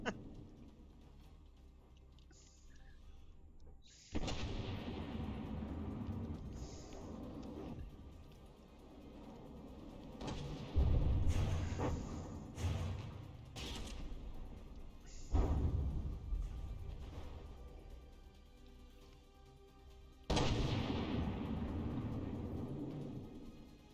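Tank guns fire in the video game From The Depths: four heavy booming blasts spaced several seconds apart, each with a rumbling tail, over a constant low engine-like rumble.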